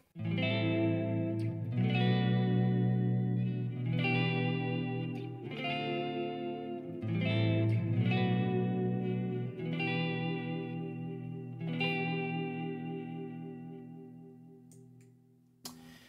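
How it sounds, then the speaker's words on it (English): An electric guitar through a Line 6 HD500X plays sustained chords with a wavering, warbling pitch vibrato effect, ringing out steadily and fading toward the end. "Here's the pitch vibrato."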